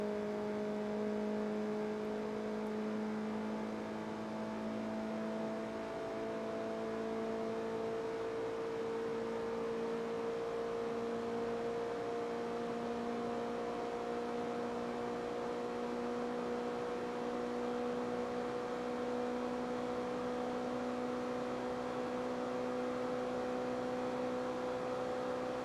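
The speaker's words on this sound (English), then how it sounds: "I kind of have to start blipping the throttle so that I don't hit the rev limiter" Engine note of a car in Gran Turismo 4 held at steady high revs, with sustained tonal harmonics that shift slightly in pitch as the throttle is worked to stay off the rev limiter, continuous and without speech.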